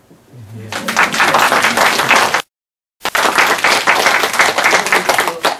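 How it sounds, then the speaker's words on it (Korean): An audience at a lecture applauds in two sustained bursts of dense clapping, separated by a short silent gap. "박수."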